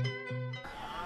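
Fighting sheep (domba adu) bleat on a livestock farm in Majalengka, West Java: two close, loud harmonic bleats in quick succession, then a rougher, noisier bleat-like call.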